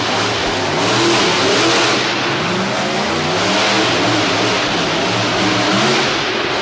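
The War Wizard monster truck's engine roars and revs steadily and loudly through a two-wheel attempt at a Monsters of Destruction show in 2023, with a dense, continuous growl and no talk.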